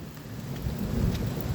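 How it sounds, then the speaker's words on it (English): Thunder rolls through a heavy rainstorm in Whaley Bridge, High Peak: a low rumble swells toward the middle over a constant hiss of pouring rain, with no voices. "There's the thunder."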